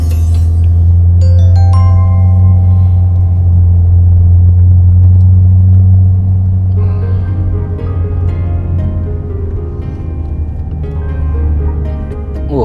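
A manual car climbs a hill in low gear, first then second, its engine droning loud and steady with a deep rumble before easing slightly in pitch and load as it keeps rolling.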